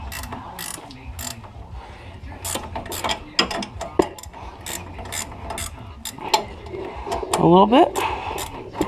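A ratchet clicks in quick, close bursts while tightening the upper ball joint on a 1999–2007 GM truck's front suspension, with someone talking briefly between the clicks.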